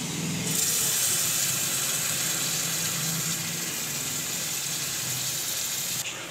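Beef hitting a pan of frying onions and cumin, with tomatoes to come, gives off a steady, close hiss and sizzle that runs unbroken the whole time, with no talking.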